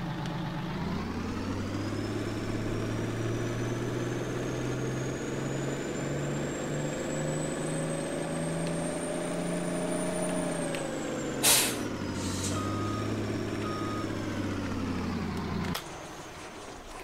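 A truck engine test in Farming Simulator 19 runs as a steady low engine drone that rises in pitch, then drops back to idle. A sharp air-brake hiss cuts in partway through.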